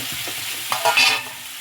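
Cooked rice is stirred into tomato thokku in a hot pan, giving a soft scraping stir over a low, steady sizzle, brief and close with no voices.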